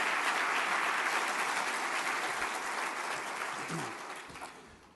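An audience at a transportation talk claps in a sustained round of applause that holds steady and then tapers off toward the end, with a faint voice emerging as it fades.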